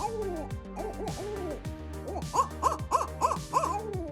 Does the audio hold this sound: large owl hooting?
yes